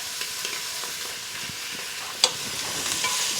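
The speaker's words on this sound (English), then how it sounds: "Stir this around a little bit." Apple and onion being stirred in a pot of a thermal cooker, a continuous close sizzle with soft scraping strokes and one sharp clink partway through.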